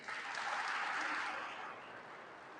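A church congregation applauds the newly baptized at an Easter Vigil, a broad wash of clapping from many hands that swells and then gradually thins.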